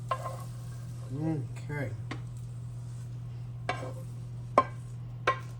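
Hot eggs frying in a pan for a breakfast-for-dinner meal give a soft sizzle over a steady low hum, with a few sharp clinks of a pan or utensil and a brief spoken word.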